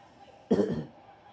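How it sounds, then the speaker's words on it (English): A single short, rough cough bursts out near the middle, close and fairly loud, over a quiet room hum. "Sorry, I coughed there"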